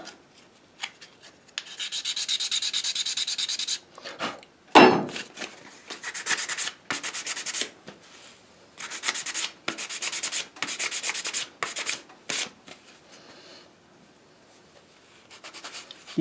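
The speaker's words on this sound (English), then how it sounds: "Get me some 220 sandpaper. Sand the top." Sandpaper of 220 grit rubbed over a handmade wooden flute in repeated bursts of close, scratchy back-and-forth strokes separated by short pauses, with one sharp knock partway through.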